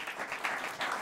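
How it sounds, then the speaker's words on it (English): Brief burst of crowd applause at a memorial commission announcement, steady clapping from an audience, moderately loud and alone. "Let's give another round of applause."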